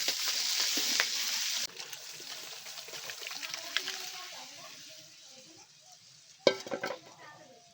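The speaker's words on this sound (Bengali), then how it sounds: "মাছের মুড়োটা মাসি ভাজতে শুরু করে দিয়েছে" Fish head frying in oil in a home kitchen for moong dal, with a steady sizzle and occasional stirring scrapes, then quieter pot and utensil clinks and a sharp clatter near the end, while people talk in the background.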